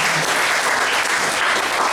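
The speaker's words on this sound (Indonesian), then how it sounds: "yang percaya tepuk tangan bagi Tuhan" A church congregation clapping during a sermon, dense sustained applause from many hands filling the room evenly throughout.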